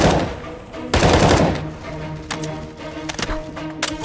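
Enemy gunfire in CS:GO survival workshop map, a loud burst of rapid shots near the one-second mark followed by scattered sharper cracks and clicks over a busy game backdrop.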